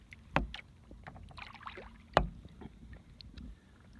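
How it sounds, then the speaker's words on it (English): A kayak paddled one-handed on Tomales Bay: two distinct, fairly close paddle splashes with soft water and faint wind filling the gaps between them. "I'm paddling with one hand."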